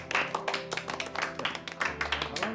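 A group of people in a classroom applaud, a run of quick, close, uneven hand claps that continues steadily without any speech.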